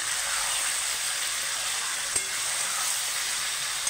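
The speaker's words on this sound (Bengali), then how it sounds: "একটু নেড়ে নিতে হবে 2 মিনিট মতো।" Chicken and onions being stirred in a pan, village style: a steady, even hiss of sizzling throughout, broken once by a single light tap of the spoon.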